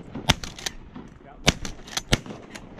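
Shotgun blasts at snow geese during a youth waterfowl hunt, several sharp cracks at varying distances, the loudest trio near together, with faint background noise between.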